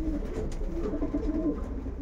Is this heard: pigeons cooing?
yes